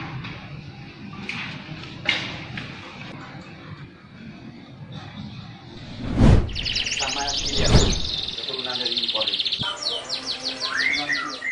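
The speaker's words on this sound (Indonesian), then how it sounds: "burung kenari juga memiliki kicauan yang merdu, lantang, dan panjang" A canary sings a clear, loud, sustained chirping song in the second half of the clip. Before it there are a few brief knocks and some background talk.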